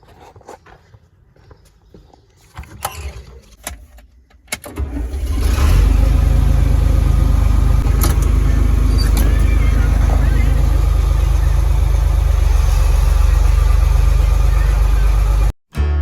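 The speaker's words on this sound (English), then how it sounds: "gonna grab the loader tractor, head over to the other farm" Light clicks and shuffling give way to a loader tractor's engine, which starts and then settles into a loud, steady, low rumble that runs close by for about ten seconds before cutting off abruptly.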